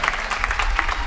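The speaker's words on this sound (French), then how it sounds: "ça s'applaudit une fois de plus" Audience applause after a singing performance at a televised talent competition, a dense, loud clatter of many hands clapping continuously, with a faint voice mixed beneath.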